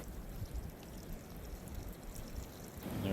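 Soaking water is poured off rehydrated morel mushrooms, a continuous splashing pour heard close and fairly soft for about three seconds.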